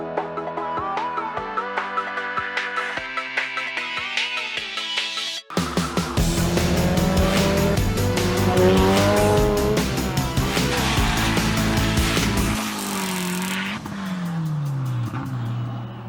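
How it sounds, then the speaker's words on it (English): A red 500HP Mazda Miata accelerates hard, its engine revving loudly while the tires squeal and skid for several seconds, following a rhythmic musical intro, with no speech. "it started off as any normal day in the red Miata, which consists of rolling it out of the driveway and immediately blasting around town"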